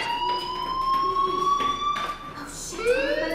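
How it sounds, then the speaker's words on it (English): A fire alarm blares in the video game Life Is Strange, a sustained electronic siren tone that holds steady and then sweeps upward, with brief clicks and a voice faintly underneath. "Hey, do you hear that fire alarm?"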